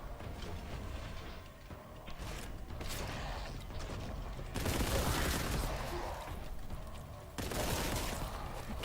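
Gunfire in Warhammer 40,000: Boltgun, dense rapid bursts of heavy shots in long continuous volleys, loud and close, with short lulls between barrages.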